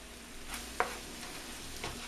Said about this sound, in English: We'll just leave this here to simmer.